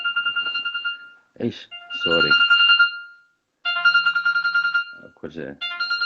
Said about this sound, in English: I got another mobile that's ringing.